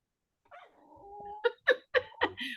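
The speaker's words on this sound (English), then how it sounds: "I'm waiting for someone to say, will you please shut your dog up?" A dog indoors gives a drawn-out whine followed by four short, sharp yips and barks in quick succession, fairly close and alone with no talk.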